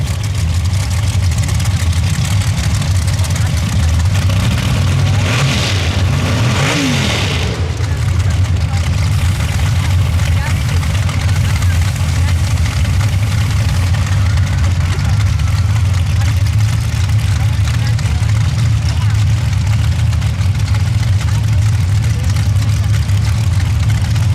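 A dirt drag racing vehicle's engine idles with a deep, steady rumble at the start of a pass at a Missouri dirt drags event, a brief rev swelling and fading midway, with an announcer talking over it.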